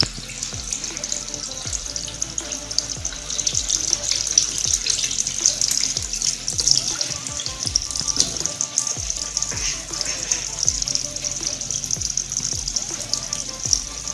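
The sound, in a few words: water running from a tap over a hand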